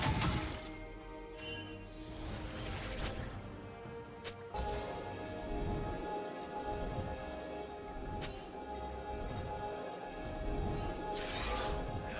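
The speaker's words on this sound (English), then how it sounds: "Red team's turret has been destroyed." A turret is destroyed in a League of Legends match, giving a loud crashing, shattering collapse with sharp impacts near the start, followed by sustained layered rumbling and game effects throughout.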